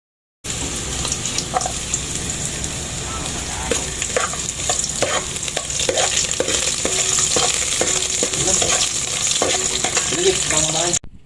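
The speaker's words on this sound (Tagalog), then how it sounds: "Pagka mainit na atin ang ilalagay yung ating luya tapos igigisa na natin" Steady, loud sizzling of ginger sautéing in hot oil, with occasional stirring clicks and scrapes throughout, no talking.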